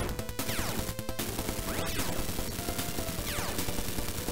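Rapid arcade shooting from the aircraft in the Scramble Spirits shoot-'em-up, a dense, loud stream of repeated electronic gunfire blasts over constant game music and effects, with no voices.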